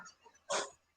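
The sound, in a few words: person imitating a dog barking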